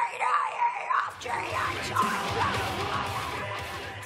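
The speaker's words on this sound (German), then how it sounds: "Das hier ist der vielseitigste Schrei, der Fry Scream, der Brutzelschrei." A harsh, gritty fry scream, a vocal distortion technique, rasps loudly for about a second, then breaks into a sustained rough, crashing roar that fades slowly.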